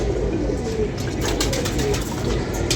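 Pet pigeons cooing close by in a home loft, soft repeated coos over a dense, busy background.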